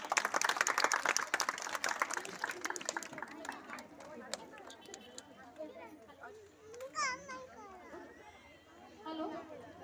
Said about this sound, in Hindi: तो तालियां देवेंद्र जी।